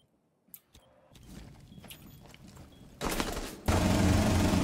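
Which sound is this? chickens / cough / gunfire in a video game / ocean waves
gunfire in a video game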